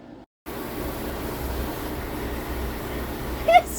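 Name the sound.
clothes dryer starting up and spinning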